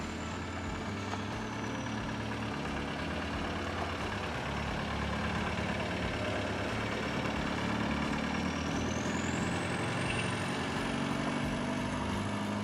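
A diesel-swapped Willys Wagon with a TDI engine runs steadily as it pulls out of a shop, a constant low rumble with a faint rising whine near the end.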